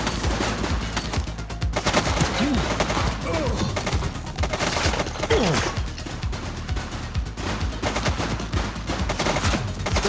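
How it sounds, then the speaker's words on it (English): Steady gunfire in The Precinct video game, rapid overlapping shots pouring out continuously and loudly, mixed with bird-like cooing and game noise throughout. "He's shooting!"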